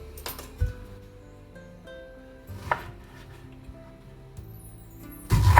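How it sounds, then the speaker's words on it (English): A kitchen knife chops red beets into pieces for roasting, a few distinct, sharp cuts against a board at irregular intervals, with a louder cluster of knocks at the end. "you need to chop this one into pieces about this size"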